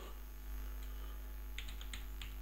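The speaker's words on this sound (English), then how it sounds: "in the search box we have to type" Short run of keystrokes on a computer keyboard entering a search query, quiet clicks in a quick cluster over a steady electrical hum.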